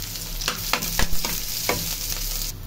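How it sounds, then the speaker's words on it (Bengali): Chopped onion and green chili fry in oil in a pan, a constant close sizzle broken by several sharp scrapes and taps of a stirring spoon. "এখন আমি পেঁপে ভাজি করবো, তো পেঁয়াজ আর কাঁচামরিচ দিয়ে দিই"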